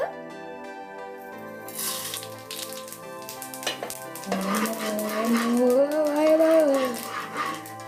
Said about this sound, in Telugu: ఆయిల్ కాగిన తర్వాత తాలింపు గింజలు వేసుకుందాం.